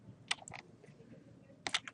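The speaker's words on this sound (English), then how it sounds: "So hold down the Alt key and hit the W key" Computer keys are pressed in two quick clusters of sharp, close clicks separated by a brief quiet gap, in a quiet room with no talking.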